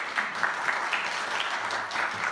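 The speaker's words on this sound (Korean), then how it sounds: "여러분 박수로 환영해 주시고요" An audience applauds steadily to welcome two guest authors at a book talk on investing in India. The clapping is brisk, continuous and moderately close, with no speech over it.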